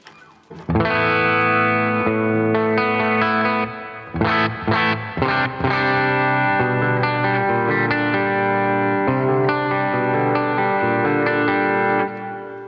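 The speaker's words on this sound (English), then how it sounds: "Change the reverb, for instance, and you can do a hall." A distorted electric guitar through a NUX MG-50 Li amp with hall reverb rings out sustained chords with a wide, lingering reverb tail, a short burst of picked notes in the middle, loud and alone.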